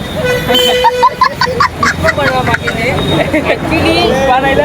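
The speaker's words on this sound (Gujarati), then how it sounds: "જો પેલી બસ આવી ગઈ છે અમારી" A bus pulling up near a railway station sounds its horn in a run of close, repeated toots over idling traffic, with several people talking and general crowd chatter throughout.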